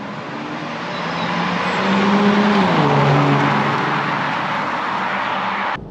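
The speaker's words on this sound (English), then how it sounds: "there's just a distinctive V12 bark to that engine" An Aston Martin DB9 Volante's V12 engine drones steadily at speed, a rich continuous roar that rises and then drops in pitch as the gears shift, loud and close throughout with no talk.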